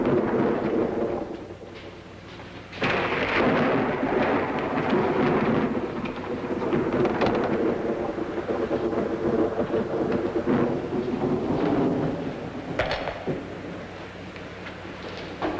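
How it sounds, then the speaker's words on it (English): Thunderstorm with steady rain in a 1949 film noir, heavy rainfall hissing throughout while loud thunderclaps crack and rumble several times over the downpour. "We'll get caught in the rain."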